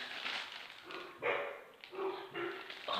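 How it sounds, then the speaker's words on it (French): Dogs bark in a few quiet, muffled bursts that seem some distance away against a soft, noisy background. "c'est les chiens qui aboient."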